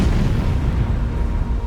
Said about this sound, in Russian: Корабль уничтожается чудовищным взрывом, мгновенно убившим половину экипажа